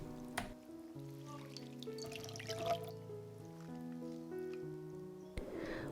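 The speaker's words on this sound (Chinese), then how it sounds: "浸泡在水中的土豆丝我们先沥干水分" Shredded potatoes that were soaked in water are drained, giving soft dripping and trickling water that sits faintly under steady background music.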